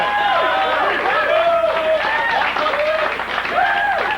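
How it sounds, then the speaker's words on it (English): An audience in Las Vegas in 1989 claps steadily and loudly, with cheering voices and whoops rising over the dense applause throughout. "So I think KOMP deserves a nice round of applause."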